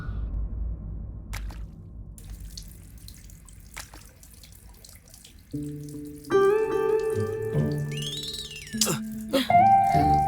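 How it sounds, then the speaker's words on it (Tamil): Dirty water poured over people, a few scattered splashes and drips first, then a spilling gush that arrives partway through, overlaid by dramatic music swelling louder in a televised Tamil folk-tale scene. "இவங்க மேல அழுக்கு தண்ணியை ஊத்துறீங்களே."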